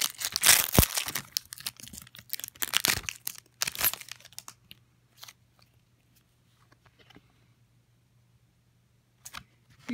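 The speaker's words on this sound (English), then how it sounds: "Now we're going to open up these card packs." Magic The Gathering card pack wrappers, Eldritch Moon prerelease packs, torn open close up: sharp crinkling and ripping bursts in the first few seconds, then sparse faint rustles with quiet gaps and a steady low hum underneath.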